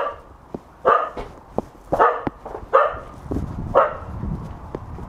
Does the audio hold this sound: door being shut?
no